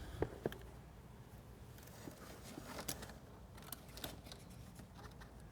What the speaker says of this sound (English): we can now use zip ties to retain these wires to our winch power and ground lines